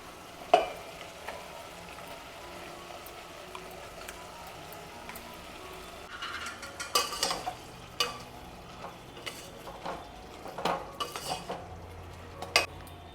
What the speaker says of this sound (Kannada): ಇದೇ ಥರ ಒಂದು 2 ನಿಮಿಷ ಮಸಾಲೆಲೆ ಅದು ಚೆನ್ನಾಗಿ ಬೇಯ್ಕೊಳ್ಳಿ.